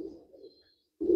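Young Teddy pigeons give a brief, soft, low coo that fades and then swells again, close by and faint, with no voices.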